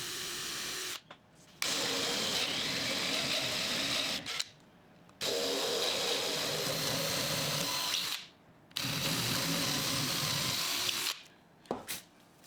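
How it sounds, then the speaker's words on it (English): A power drill whirs in four sustained bursts, each several seconds long, separated by short pauses, close and loud with no talking, while drilling pilot holes in a vice. "I'll drill pilot holes first"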